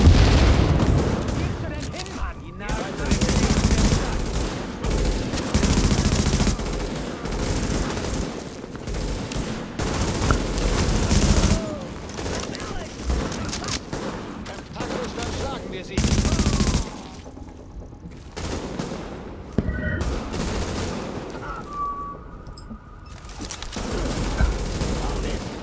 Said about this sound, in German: Beschuss durch leichte Waffen. Unter Beschuss.